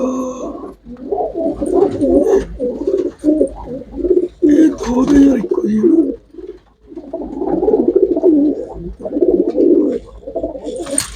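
Pure-bred pigeons coo loudly and close by in a dense, throbbing chorus that pauses briefly now and then, while someone speaks a few words among them.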